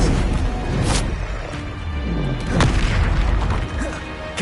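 An Expelliarmus spell cast in the video game Hogwarts Legacy on PS5 lands as a loud, booming magical impact, with several heavy thuds and whooshing bursts layered over continuous game effects.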